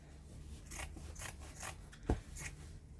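Quiet scissors snipping through handwoven aso oke cloth, several soft rasping cuts spaced about half a second apart with one sharper close snip.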